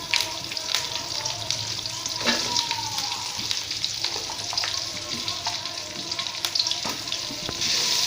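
Large chopped onions fry in a pan with a steady sizzle for about eight seconds, with occasional stirring clinks and scrapes close by.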